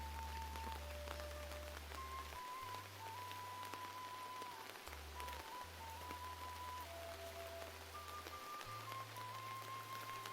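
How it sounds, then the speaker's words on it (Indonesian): Heavy rain pours steadily over a village, a dense even hiss under a low droning tone and a few faint melodic notes. "hujannya makin gede."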